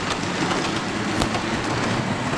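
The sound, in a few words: toy train running around a Christmas village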